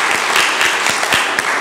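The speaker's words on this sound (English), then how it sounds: "We're clapping because of you." A church congregation applauds steadily for a short stretch, a dense and fairly loud wash of many hands clapping with no talking over it.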